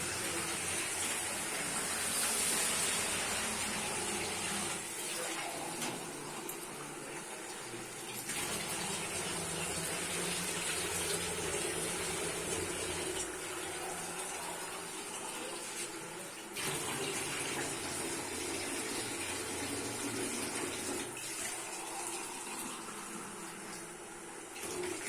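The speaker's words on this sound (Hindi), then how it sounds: "इतना पानी डालूंगा जिसमें चिकन और आलू दोनों गल जाए और हमें अच्छी सी ग्रेवी मिल जाए।" Water pours steadily into a cooking pot of chicken kofta and potatoes for gravy, a continuous broadband gushing that runs at an even level for about twenty-five seconds with no talk.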